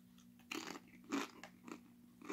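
Crunchy bites into a limited-edition Nacho Cheese Doritos chip, three or four loud, close crackling crunches with short pauses between, no talking.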